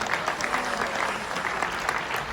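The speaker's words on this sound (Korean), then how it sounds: "이철구 박사님께도 여러분 감사의 박수를 보내주시기 바랍니다" Dense, steady applause from an audience at a Korean gathering, many hands clapping together at an even loudness throughout without a break.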